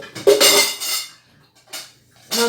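Loud clanks and scrapes ring out as a pot with burnt porridge is set into a Beko dishwasher rack, a couple of sharp metallic knocks with short pauses between them.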